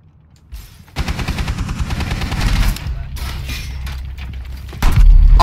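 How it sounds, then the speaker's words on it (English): Automatic gunfire blasts through a wall in the shooter game Rainbow Six Siege, a loud sustained burst of rapid shots lasting a few seconds, then a heavier bang at the end. "He's trying to shoot through the wall, I think."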